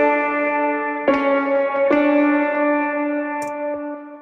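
Lead lick on electric guitar layered with a vintage upright piano, with sustained distorted, echoing tones and a few sharp struck notes entering at intervals, loud and alone without talk.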